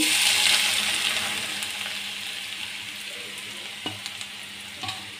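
Grated carrot sizzles and fries steadily in a hot pan for carrot halwa, a loud continuous hiss that slowly eases, with a couple of faint clinks of stirring near the end.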